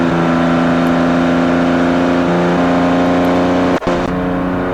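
A home-built hypercar made with 1940s technology accelerates along a motorway, its engine droning loudly and steadily with a brief dropout near the end before resuming.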